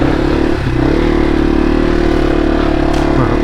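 Yamaha TW200 dual-sport motorcycle engine revving hard and steady while riding through a stream, a loud, sustained close-up drone with a slight dip and recovery in pitch.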